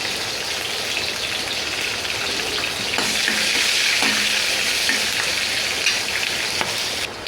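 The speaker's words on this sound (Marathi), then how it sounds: "त्यानंतर आपण टाकू याच्यामध्ये कढीपत्ता आणि मिरची." Curry leaves and green chillies hit hot oil for a tempering and sizzle loudly and continuously, a dense crackling hiss up close with scattered sharper pops.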